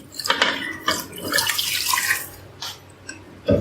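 Water pours into a cooking pot for rice pilaf, five glasses added along with salt and dried coriander, a steady splashing stream with a few short bursts, close and fairly loud.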